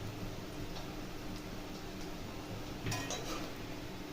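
Fried chicken for a chicken dum biryani is pressed in a metal strainer to squeeze out the oil, making soft metallic clinks and scrapes over a steady background hiss, with a brief louder clatter partway through.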